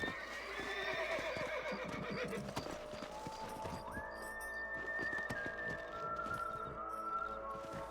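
A horse whinnies loudly while hooves clip-clop in a steady rhythm in Red Dead Redemption, with faint game-like ambience and no speech.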